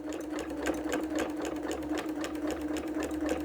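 A sewing machine runs steadily, close and fairly quiet, stitching t-shirt rag quilt blocks with a quick, even needle rhythm and no pauses.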